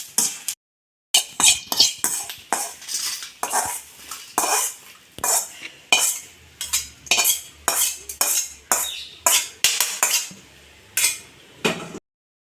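Dried red chillies and curry leaves dry-roasting in a pan for rasam powder, with a utensil scraping and clanking against the metal in quick, steady strokes, close and loud, with no voices.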